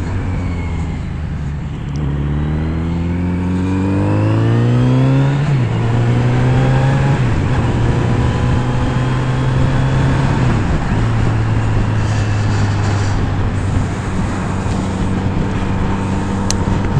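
A Kawasaki Z900RS motorcycle on a test ride revs up through closely spaced gear changes. The engine note rises, drops at each shift and climbs again, loud and close, with wind and road noise underneath and no talking.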